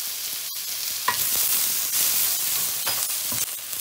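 Chiles and a little ginger tossed into a hot pan for Mongolian beef, with a steady loud sizzle of frying throughout and a few sharp stirring scrapes and clinks cutting through.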